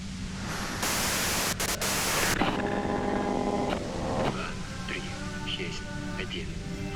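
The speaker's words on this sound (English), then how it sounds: "you can do it through the white noise" Static white noise from the video game Disco Elysium fills the clip as a loud, steady hiss that swells for a stretch, then continues beneath tonal game sounds and a faint voice.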